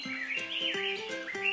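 A dove chirping in a children's storybook setting: a quick series of rhythmic, repeated chirps, close and moderately loud, with no talk over them.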